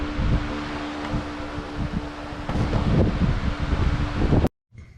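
Wind blows across an outdoor microphone in steady gusting rumbles with rustling noise, fairly loud for about four and a half seconds before cutting out abruptly.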